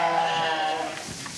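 Sheep and month-old lambs bleat on a sheep farm in Crimea, several calls overlapping at moderate distance over a steady background murmur.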